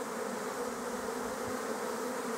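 Young honeybees fly around the beehive outdoors on a sunny day, making a dense, continuous buzzing hum of many insects at a steady loudness, with no voices.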